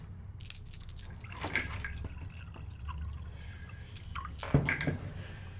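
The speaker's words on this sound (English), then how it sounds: "Why do I hear water?" Water drips and trickles with scattered splashes and soft squishy sounds, quiet and intermittent over a low background hum.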